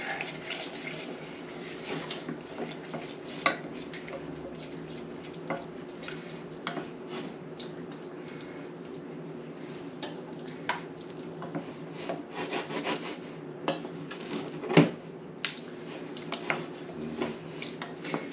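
A wooden spoon stirs a roasted vegetable and ricotta pasta bake in a pan, giving steady, close scraping and rubbing strokes with a soft background hiss and occasional sharper knocks, no talking.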